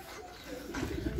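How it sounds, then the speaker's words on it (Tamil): A spotted dove coos close by on a day trip in the Yelagiri hills, one short low coo over soft background murmur and faint voices. "மாரி புறா நம்மள அட்டாக் பண்ண பாக்குது."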